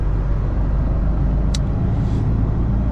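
A loaded truck pulls away after unloading cargo, its engine giving a steady, close, heavy rumble throughout, with a short hiss partway through.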